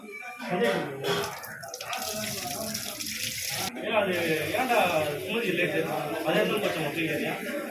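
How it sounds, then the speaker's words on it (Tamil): Rice is washed under running tap water, a steady splashing flow close by with voices talking over it. "அரிசி கழுவுறாங்க பாருங்க"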